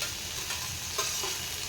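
Tomato stirred and fried with onion in oil for a dried bombil fry, a short steady sizzle with a soft stirring scrape or two, close and moderate.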